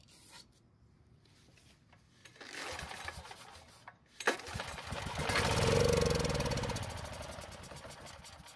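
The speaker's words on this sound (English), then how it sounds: "see if we can try starting the engine with it" A Powermate generator engine that has been failing to start is pulled over, giving a rising mechanical rumble and clatter that builds for a few seconds near and loud, then fades without settling into a steady run.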